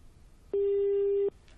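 Telephone busy tone after a phone-in call to a radio or TV programme drops, a single clean steady electronic beep lasting under a second, loud against a quiet background.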